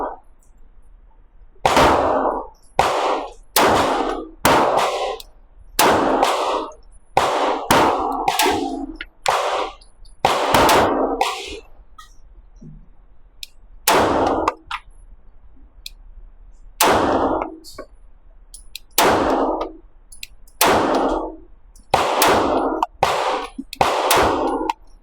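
A CZ Shadow 2 pistol fires about fifteen loud, sharp shots in irregular quick succession, each crack followed by a ringing clang of rounds striking steel targets, with brief pauses between strings.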